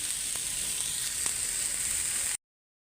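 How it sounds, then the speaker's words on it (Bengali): Bottle gourd greens (lau shak) frying in a pan give off a steady, close sizzle with a few faint stirring clicks, then the sound cuts off abruptly. "সুন্দর করে একদম ভাজা ভাজা করে ফেলছি"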